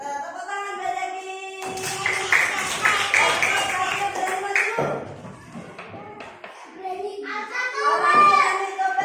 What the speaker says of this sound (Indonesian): Nah, tepuk tangan lagi.